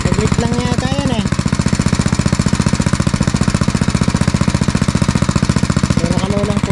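Rapid, evenly spaced thumps come from a motorized rig sinking a pipe into the ground for a hand-pump well, loud and near throughout, with a voice speaking over it at the start and again at the end.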